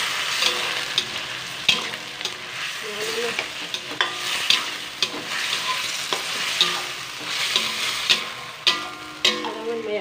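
Steady sizzling of a chicken omelette frying in a pan, with occasional scraping and stirring clicks over the crackle, fairly close and continuous.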